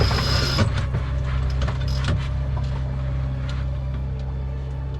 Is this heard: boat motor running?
yes